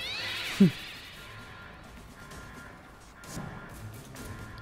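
Cats meow in the South Park video game, with a couple of faint, brief cries over a low ambient game background. One short, sharp sound stands out near the start.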